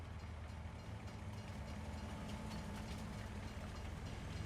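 A train rolls past in the farming game Farming Simulator 19 on an alpine map, a steady low rumble with faint rhythmic clatter, fairly quiet and unbroken, with no talking.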